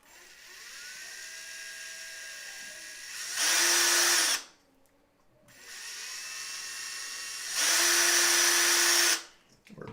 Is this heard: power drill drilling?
yes